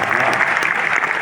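Audience applause at a Hindi poetry gathering (kavi sammelan), a brief, dense burst of clapping from a crowd, loud and close, with voices mixed in.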